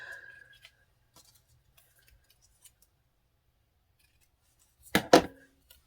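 Scissors snip through paper in two quick, close cuts near the end while making handmade happy mail, after a mostly quiet stretch with faint small handling taps.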